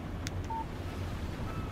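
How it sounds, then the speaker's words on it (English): A mobile phone's text message alert chimes in the video game Alan Wake, a few brief electronic tones over a low rumbling ambient background. "Text message from Barry."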